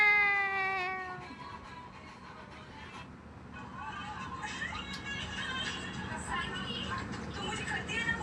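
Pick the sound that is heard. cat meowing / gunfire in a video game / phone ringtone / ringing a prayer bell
cat meowing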